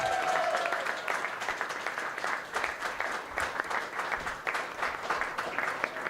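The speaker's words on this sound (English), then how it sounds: "Round of applause for my great friend, Luke McGregor!" A studio audience breaks into sustained applause at a live comedy panel show, dense steady clapping filling the space with a faint voice at the very start.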